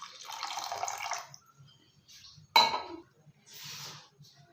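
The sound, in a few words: water being added to tamarind soup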